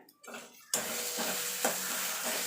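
Cauliflower leaf paste frying with dried red chillies in a pan, a steady close sizzle with soft stirring scrapes after a quiet start, no talking.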